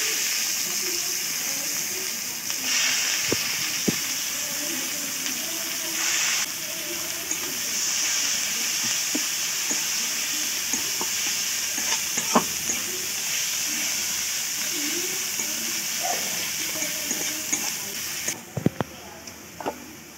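Chopped onions sizzle in hot oil for a simple egg curry, a steady close hiss with soft scraping stirs and occasional clicks, continuing without pause throughout.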